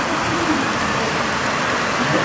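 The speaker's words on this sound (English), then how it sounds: "Tell them to get the rain in their mouth." Steady rain falling outdoors during a trip in Kenya, a dense continuous hiss of drops with no breaks, loud and close throughout.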